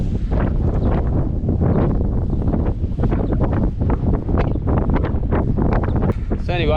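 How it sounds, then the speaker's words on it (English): Strong wind buffets the microphone at an open, dry grassy campsite, a loud continuous roar with gusting surges and no pauses. "It's too windy"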